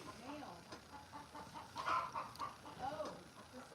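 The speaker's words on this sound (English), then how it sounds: "I think it was another hen." A farm hen clucks several times in short, uneven bursts, with a louder squawk near the middle, heard on a live ranch stream with some faint talking around it.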